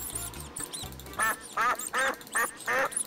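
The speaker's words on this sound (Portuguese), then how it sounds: "Esse som de pato." Cartoonish duck quacks from a Roblox minigame ring out in a run of about six loud, evenly spaced bursts over a low, buzzing game backdrop.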